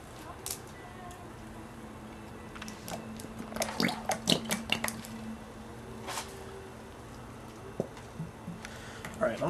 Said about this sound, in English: take your Caro syrup and dump it in your mixing bowl